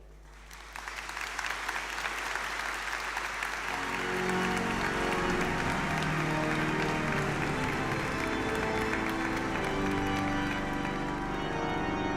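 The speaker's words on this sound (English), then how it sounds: "You certainly deserve our applause." Audience applause at a university graduation ceremony, quiet at first and then swelling into loud, sustained clapping from a large crowd that fills the hall for the rest of the clip.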